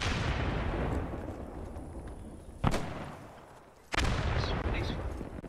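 Gunfire in the Post Scriptum war game, a rumbling battlefield bed punctuated by two sharp, loud nearby shots with echoing tails, the second followed by sustained heavy noise.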